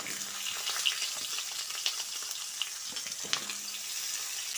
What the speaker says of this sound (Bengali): তেল গরম হয়ে এলে প্রথমে আমি কেটে রাখা আলুগুলো দিয়ে দিচ্ছি।